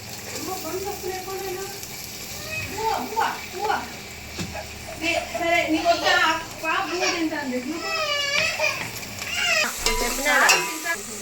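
Onions frying in hot oil for a country-chicken curry give a steady sizzle with stirring. Children talk and play nearby throughout, and their voices are louder than the pan.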